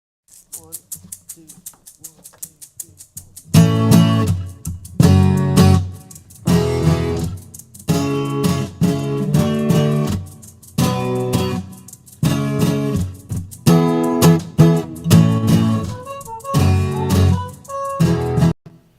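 Rock guitars with an eighth-note Haas-style delay of about 45 milliseconds in a song mix, strummed in steady rhythmic chords after a quiet start, full and wide throughout.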